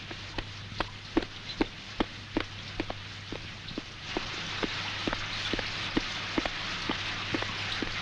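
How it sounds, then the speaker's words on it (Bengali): Light rain patters in a regular rhythm of drip-like taps, faint and outdoors, over a low steady hum, slowly thickening into a denser wash toward the end, with no voices. "এখানকার পানি ঘোলা হয়ে গেছে আর বৃষ্টিও কমে এসেছে"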